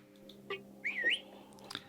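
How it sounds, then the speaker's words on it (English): R2-D2, the Star Wars droid, gives a quick cheeky electronic whistle with a rising and falling chirp, brief and fairly faint over a quiet background hum. "R2 does this cheeky whistle to 3PO"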